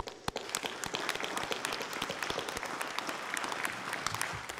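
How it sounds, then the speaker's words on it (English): An audience applauds steadily throughout at a Memorial Day ceremony in Carmel, dense clapping from many hands filling the room at a moderate level, with no speech over it. "You can clap for that."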